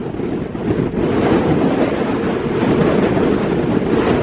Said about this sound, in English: it's cold and windy and it's bad